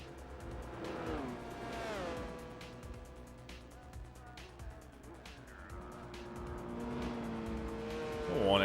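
A Nissan Skyline and a Honda NSX race in Gran Turismo 4 at Suzuka, engines droning and shifting pitch as they pass, with occasional tire squeal and someone talking over them.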